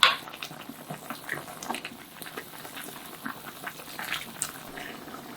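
Half of the braised beef short rib broth is scooped from a pot, giving soft liquid sloshing and pouring with small clinks of a ladle, faint and close.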